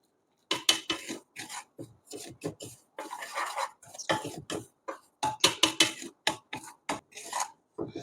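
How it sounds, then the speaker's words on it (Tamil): Dry semolina scrapes and rasps in a pan as it is dry-roasted, in quick irregular strokes, a close gritty stirring sound with no talking. "நான் கொஞ்சம் வந்து வறுக்கிறேன் ஒரு வாட்டி"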